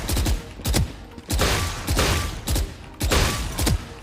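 Repeated gunfire from shooting in the video game Valorant: about seven sharp bursts in an uneven rhythm, each a loud crack with a booming low tail, with short gaps between them and no talking.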